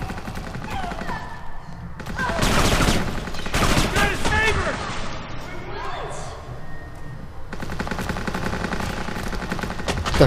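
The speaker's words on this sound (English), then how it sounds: "We gotta shoot him!" Rapid gunfire in the shooter video game Kane and Lynch 2: Dog Days, with bursts of automatic weapons and overlapping shots, loud and continuous under shouted voices.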